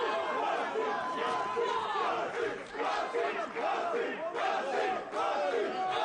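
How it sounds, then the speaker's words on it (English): A boxing crowd in a Dubai arena roars and cheers steadily throughout, loud and dense with shouting and chatter blending together. "the crowd here in Dubai getting behind Mohammed Waseem as well"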